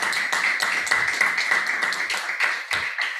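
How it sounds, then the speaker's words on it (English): Conference audience applauding the interpreters, a steady patter of many hands clapping at close range, dense and continuous with no voices over it. "So please applaud them."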